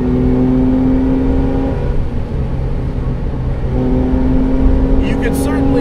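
A modified Porsche 996 Carrera engine is pulling hard at full throttle. Its steady, loud tone climbs through the gears, with a brief dip partway through, and a voice speaks over it.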